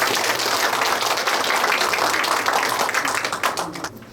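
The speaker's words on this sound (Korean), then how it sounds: "다 함께 큰 박수로 오늘의 행사를 축하해 주시기 바랍니다" Audience applause at a cultural centre humanities lecture, a broad wash of many hands clapping that carries steadily and then thins and fades out near the end.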